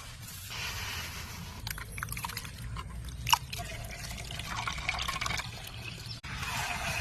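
Flattened rice (aval) being rinsed by hand in water in a kitchen: continuous soft sloshing, trickling and dripping, close and fairly quiet, with no talk.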